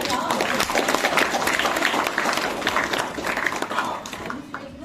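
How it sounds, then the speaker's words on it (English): Audience applause fills the space with dense, steady clapping throughout, fairly close and even in loudness, with a crowd murmuring underneath. "Let's applaud for that, huh?"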